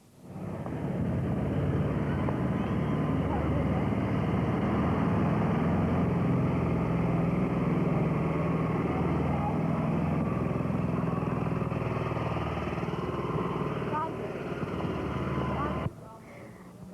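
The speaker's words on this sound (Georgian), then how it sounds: "ამ ტრაქტორს თქვენი გართობის მიზნით იყენებთ თუ ეს მარტო გართობა არ არის?" A tractor engine runs steadily and loud throughout, a continuous low mechanical drone in a rural Kakheti setting, cutting off near the end.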